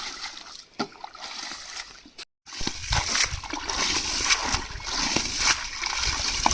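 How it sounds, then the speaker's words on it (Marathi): Repeated splashing and sloshing of water as it is scooped and tossed while bailing out a pond, uneven bursts over a wet, busy background. "आवरा पटापट, कसली वारी सुरुवात केली लगेच पाणी उपसायची"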